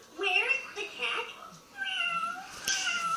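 A cat meows several times in short, rising calls, close by and fairly loud, with people talking around it.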